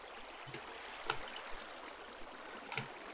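Flowing water placed in the Minecraft video game trickles softly and faintly, with a few small splashing blips standing out from the quiet steady stream.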